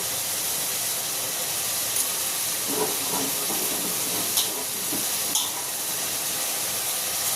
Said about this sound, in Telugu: మూత పెట్టుకొని ఫ్రై చేసుకుందాం.